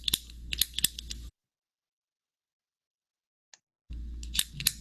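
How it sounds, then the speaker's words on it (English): A pen clicks in a quiet room, giving a few sharp, close, tight clicks grouped at the start and again near the end, with near-silence between them. "It's a pen clicking."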